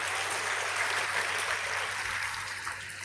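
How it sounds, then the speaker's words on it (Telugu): A church congregation claps together in praise, a dense, continuous patter of many hands at an even level across the whole stretch. "చప్పట్లు కొట్టి దేవుని మయంపరచండి."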